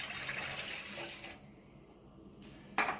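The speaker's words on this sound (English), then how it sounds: "we're gonna put our cup of water in the bowl" A cup of water poured into a bowl in a home kitchen while making bread dough, a soft, close splashing pour for about a second, then quiet, then a brief light clink or splash near the end, with no talking.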